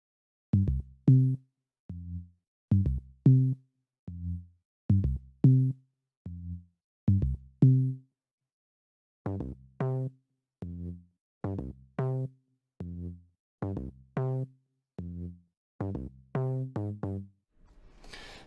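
Synth bass sub preset playing a rhythmic pattern of short punchy low notes, first dry and then passed through a Cramit plugin that tightens the low end and adds distortion harmonics, loud and isolated with no voices.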